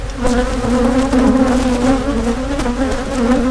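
A dense, steady buzzing of many honeybees close to the microphone during a hive inspection, from a colony with European foulbrood, loud and continuous with no voices.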